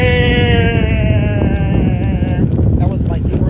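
A voice imitates a train rumbling through a tunnel, a loud, close, sustained droning tone that wavers and then breaks into rougher noise, given alone with no other talk.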